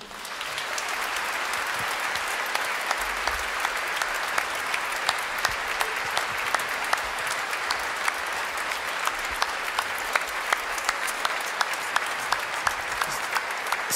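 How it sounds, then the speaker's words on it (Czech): A large concert-hall audience at a Christmas concert gives sustained, even applause to welcome the Bohuslav Martinů Philharmonic, dense and loud throughout with individual sharp claps standing out. "byl rád, kdybyste potleskem přivítali Filharmonii Bohuslava Martinů"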